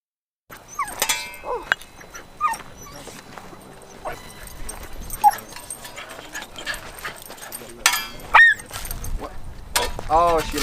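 A dog whimpers after landing on rebar at an outdoor dinosaur dig site, with short high yelps and whines scattered across the clip amid nearby voices and movement.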